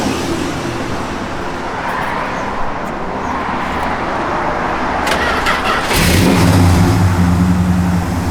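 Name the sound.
1967 Plymouth GTX engine starting and revving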